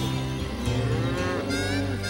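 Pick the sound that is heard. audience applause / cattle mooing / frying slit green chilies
cattle mooing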